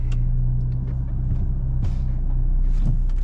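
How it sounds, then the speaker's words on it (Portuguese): RAM Rampage Rebel pickup with a 2.0 turbo gasoline engine coming to a stop to park, giving a steady low engine hum and idle drone with faint mechanical clicks close by, with no talking. "Vou parar o carro aqui."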